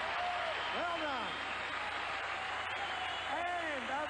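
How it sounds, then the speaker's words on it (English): Sustained applause from a pageant audience, a dense, steady wash of clapping that fills the whole stretch at constant loudness, with a voice sweeping in over it. "how about a great big round of applause for the 3 Pips right there"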